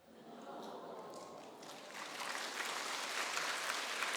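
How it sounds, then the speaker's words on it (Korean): During a Wednesday worship service, a congregation applauds quietly, a soft, distant patter of many hands that builds slightly and holds steady. "박수를 칠 일은 아닙니다"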